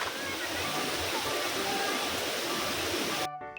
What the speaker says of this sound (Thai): สวยนะน้ำตกตัวนี้ก็สวย